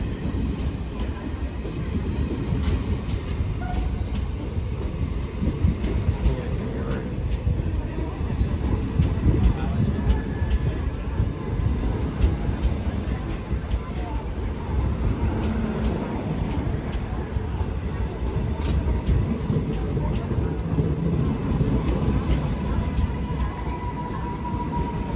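Madgaon to Nagpur passenger train running with a steady low rumble and rail clatter for the whole stretch, with some voices faintly mixed in.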